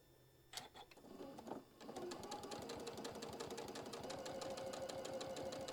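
A sewing machine runs steadily, stitching down one side of a fabric puff pouch, a fast even rapid-fire clatter after a few brief starts, close and loud with no talk.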